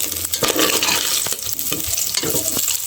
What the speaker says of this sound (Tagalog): nag brown na ang karne so ilunod na nato ang ahos